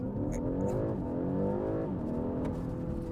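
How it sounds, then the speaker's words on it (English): A BMW 530e plug-in hybrid launches from a standstill with launch control in sport mode, its engine revving hard and climbing through gears in a continuous, rising drone heard from inside the cabin. "So let us now test out the 0 to 100 km/h feature on this car, the launch control."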